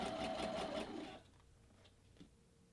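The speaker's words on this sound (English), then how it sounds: "When I stitch the facing to my front, I'm just doing a regular width stitch." Sewing machine stitching a fabric seam with a regular-width stitch, a steady close whir for about a second before it stops and the room goes quiet with faint handling.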